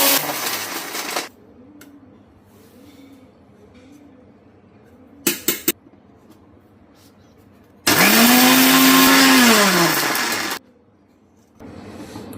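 Electric mixer grinder powdering whole spices such as cinnamon in a jar, loud whirring bursts that start and stop abruptly, a short burst, rattling clatter, then a longer whining run with pitch dropping as it spins down.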